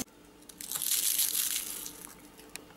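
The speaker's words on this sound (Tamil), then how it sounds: "நல்லா நுறுங்குது, நல்லா காஞ்சி நல்லா முறுமுறுன்னு இருக்குது" Crisp dried rice vadam fryums, tinted with beetroot juice, crushed between the fingers, giving a close, dry crackling crunch that swells for about a second and then fades, alone and without speech.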